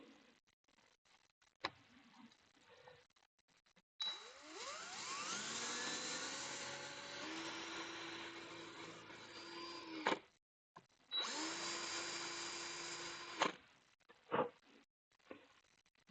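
A power drill whirs up and runs steadily for several seconds, boring a hole at an angle, stops, then runs again in a shorter burst, with small clicks and knocks between.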